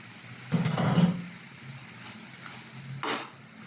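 Onions fry in a pan for pork bagoong, a steady close sizzle with a few louder bursts as they are stirred.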